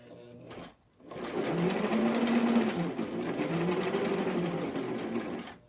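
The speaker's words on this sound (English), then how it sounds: "I have never sewn a hemline that tiny in my life" A sewing machine stitching a tiny hemline on a 1963 vintage Barbie square dancing outfit, a close, steady mechanical whirring with wavering pitch after a brief stop-start, running about five seconds.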